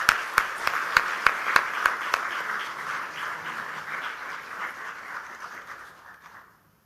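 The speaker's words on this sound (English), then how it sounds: "Let's warmly welcome her with a round of applause" An audience applauds at an International Women's Day event, starting with a few sharp claps that swell into steady, moderately close clapping for about six seconds before fading out.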